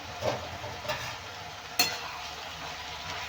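Spices, peanuts, sesame seeds and green chillies are stirred in a pan under a faint, steady sizzle, with three soft scraping strokes spaced about half a second to a second apart; no talking.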